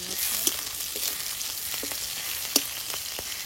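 Bay leaf, black cumin, crushed garlic and green chili frying in hot oil for a Bengali taro greens dish, a steady soft sizzle with a few sharp pops and crackles, close and alone.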